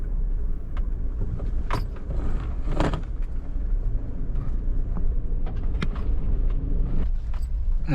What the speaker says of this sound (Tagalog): Napalaban yung sasakyan ni Katipay, oh.